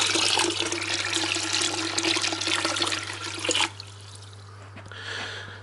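Tank water pours steadily and loudly into a bucket, then stops abruptly, leaving a faint trickle and a low steady hum.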